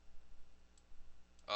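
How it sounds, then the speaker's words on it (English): A sharp key tap on a computer keyboard lands at the very end, after faint ticks and quiet room hiss while someone works in 3D modeling software. "So I'm going to tap 3 on my keyboard."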